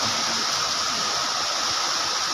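Water flows steadily behind a house, a constant broadband rush with no breaks, moderately close and alone without voices.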